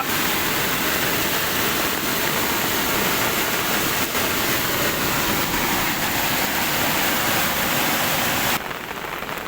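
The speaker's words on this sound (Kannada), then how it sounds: "ಒಂದು ಗಂಟೆ ಸುರಿದ ಧಾರಾಕಾರ ಮಳೆಯಿಂದಾಗಿ ಸುತ್ತಗಟ್ಟಿಯ ಹಳ್ಳ ತುಂಬಿ ತುಳುಕ್ತಾ ಇರ್ತಕ್ಕಂಥ ದೃಶ್ಯ" A stream flooded by an hour of torrential rain in Sutagatti village, Belagavi district, Karnataka, roars steadily and densely without pause, loud and close, then drops off abruptly near the end.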